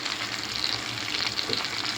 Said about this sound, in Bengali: আস্তে আস্তে আস্তে আস্তে করে মাছটা এভাবে ফ্রাই করতে হবে।